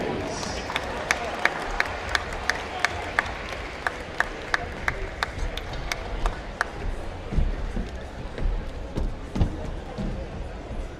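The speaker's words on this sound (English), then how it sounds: "let's give a huge round of applause for our Westview Wildcats seniors and their families." Spectators at a girls' high school basketball game clap for the seniors and their families: sparse, evenly spaced claps that build into a general crowd murmur, with a voice speaking over them.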